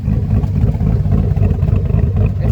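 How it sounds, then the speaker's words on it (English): A 2005 Chevrolet Silverado with a junkyard LS 5.3 V8 and new cam rumbles loudly from its exhaust, a deep, steady, lopey idle with slight revving pulses and no voices. "this is the sound of the exhaust right now."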